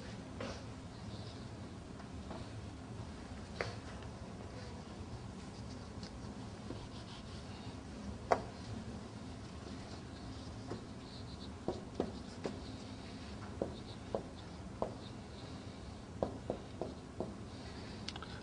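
Writing an example on a board during an Arabic lesson: faint scratching and light tapping strokes, scattered and intermittent over a low steady room hum, with no talk.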